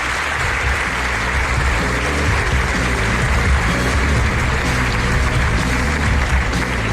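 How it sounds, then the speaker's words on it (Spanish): An audience at a live event in La Laguna applauds in a steady, dense wash of clapping that runs without a break from start to finish. "De nuevo un aplauso para todos los blanquitos"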